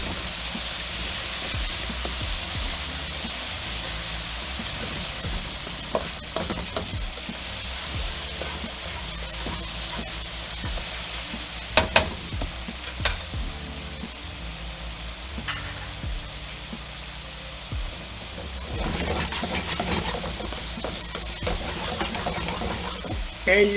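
Garlic stir-fries in oil over medium heat, giving a steady soft sizzle like light rain, broken by occasional sharp clicks and scrapes of a utensil against the pan.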